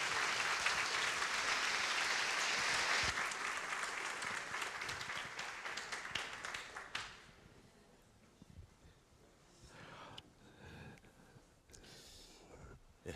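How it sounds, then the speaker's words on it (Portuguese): A church congregation applauds guest pastors with dense clapping for about seven seconds. The clapping then breaks into scattered claps and quiet room noise, with faint voices at the end. "vamos recebê-los com uma salva de palmas em nome de Jesus."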